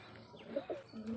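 A faint pigeon coo, a couple of soft low calls against quiet background hiss.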